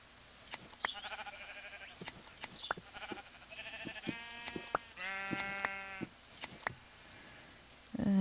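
Repeated sheep bleats in Minecraft, several separate calls spaced irregularly, fairly clear and close, with sharp clicks scattered between them.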